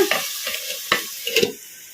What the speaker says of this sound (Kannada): ಒಂದು ಸ್ವಲ್ಪ ಹೊತ್ತು ತಟ್ಟೆ ಮುಚ್ಚಿ ಫ್ರೈ ಮಾಡ್ಕೊಂಬಿಡೋಣ.